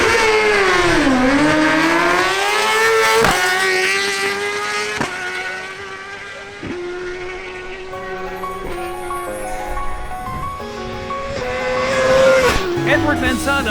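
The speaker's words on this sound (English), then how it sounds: "Next, Edward Manzano, on his Suzuki GSX-R1000, makes a solo run." A Suzuki GSX-R1000 superbike makes a solo drag race run, its engine screaming loudly as it climbs through the gears in sharp repeated shifts, the pitch rising and dropping with each change, with a faint voice underneath.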